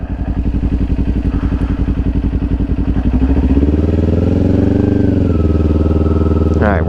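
A Kawasaki Ninja 400 motorcycle engine idles with a loud, steady, pulsing thrum up close, then the revs rise smoothly as the bike pulls away in first gear.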